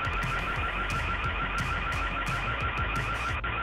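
A home alarm system blares continuously and loudly, a harsh electronic tone that keeps sounding without pause.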